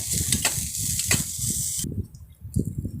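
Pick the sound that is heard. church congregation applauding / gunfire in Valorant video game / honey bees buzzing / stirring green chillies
stirring green chillies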